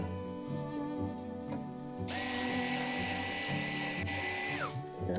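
A power drill backs the screws out of the smokestack on a Pit Boss 5 Series smoker, a close, loud whirring that climbs sharply in pitch, holds for a few seconds, then winds down.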